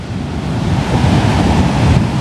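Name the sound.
ocean waves breaking at Kuta Beach, Bali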